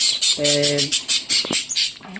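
Pet budgerigars chattering in rapid bursts of sharp chirps and squawks, close and busy, with one short whistled tone partway through.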